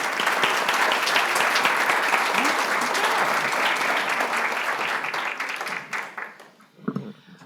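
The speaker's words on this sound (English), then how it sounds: "Please join me in giving a round of applause." A full round of audience applause at a legislator education forum, dense and loud for several seconds before thinning out and fading to a few scattered claps.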